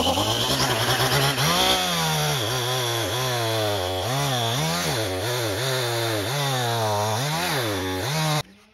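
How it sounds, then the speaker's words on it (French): A small chainsaw-style saw buzzes steadily through a log, cutting a 30-40 cm section for a Swedish torch, its pitch rising and dipping as it bites, loud and close, then cuts off abruptly. "avec votre petite scie, en couper environ 30-40"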